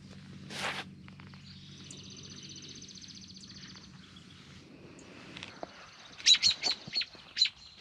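Faint chirps from a bird guarding its nest near a vineyard come in a short series near the end, following a stretch of soft rustling and steps outdoors.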